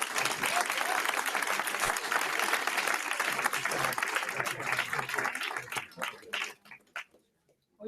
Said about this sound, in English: can we get a big round of applause for our mayor this morning?